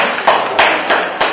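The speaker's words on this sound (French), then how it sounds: "on peut applaudir" A few sharp, bright bursts of clapping at an academic ceremony welcoming a university delegation, coming in about four quick waves over a second, fairly close.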